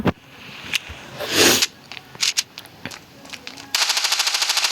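Gunfire in the mobile shooter game Standoff 2: scattered single shots and short bursts, ending in a rapid rattling automatic burst, fairly quiet overall.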